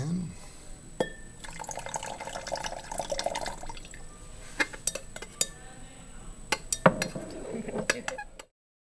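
Liquid is poured into a glass vessel for a cobalt catalysis experiment with potassium sodium tartrate and hydrogen peroxide, a steady trickle with sharp glass clinks and taps scattered around it, close and clear.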